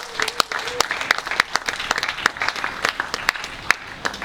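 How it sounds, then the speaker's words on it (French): A church congregation applauding during a sermon, a dense rhythmic clapping close by, with shouted voices over it. "Acclame bien Jésus"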